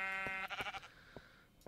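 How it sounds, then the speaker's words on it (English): A quiet blocky sheep bleat from Minecraft Infdev at nighttime, one short wavering call followed by faint soft clicks. "Still plenty of sheep."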